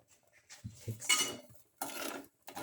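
A spoon stirs rice flakes and milk in a pot for a cardamom dessert soup, making soft, close scraping and clinking strokes in short separate bursts with pauses between them.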